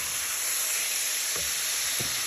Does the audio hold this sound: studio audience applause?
no